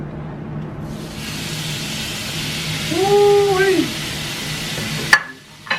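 Food sizzles hard in a frying pan, a loud steady hiss that carries on for several seconds while a man exclaims over it, then cuts off with a sharp clatter near the end.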